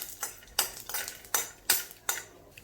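A metal spatula scrapes and clinks against a pan while peanuts roast in oil, in about five rhythmic stirring strokes with a faint sizzle beneath and no talking.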